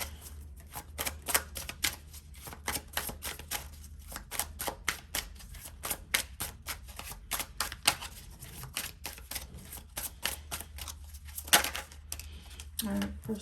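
Tarot cards shuffled by hand in a long run of quick, soft riffling flicks and taps, close and fairly quiet, over a low steady hum.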